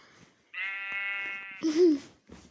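A single drawn-out Minecraft sheep bleat rings out clearly, followed by a short vocal sound, slightly synthetic and close.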